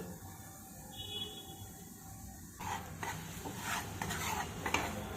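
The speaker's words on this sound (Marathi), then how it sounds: "गॅस फुल असेल ना त्यावेळेस सतत हलवत राहायचा रवा म्हणजे खाली लागणार नाही" Semolina roasting in ghee in a pan on a full flame is stirred continuously, with quiet scraping at first and then busier clinks and scrapes of a spoon against the pan, close and moderately loud.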